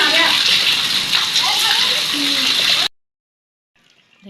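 Heavy storm rain and floodwater around a flooded house, a dense loud wash of falling and rushing water with a voice speaking over it, cutting off abruptly to near silence before a faint return.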